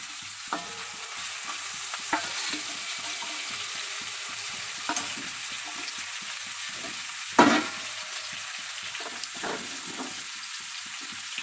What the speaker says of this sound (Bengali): এই যে পেঁয়াজটা হাফ ভাজা হয়ে গেছে, এবার আমি মাছের ডিমটা এর মধ্যে দিয়ে দেবো।